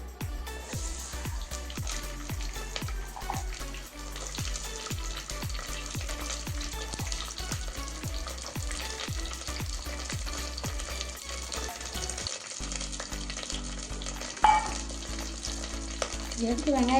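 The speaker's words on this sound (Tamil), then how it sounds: "வெங்காயம் மட்டும்தான் வணக்க போகிறேன்." Onions frying and being stirred in hot oil in a clay pot, a steady close sizzle with repeated crackles and soft scraping strokes throughout, no voices.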